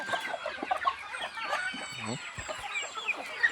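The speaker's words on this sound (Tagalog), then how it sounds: "So ikuha na itong mga manok o mga alaga na ito." Backyard chickens cluck and call close by in a steady, overlapping chorus, with a few sharper squawks rising over the flock and no talking.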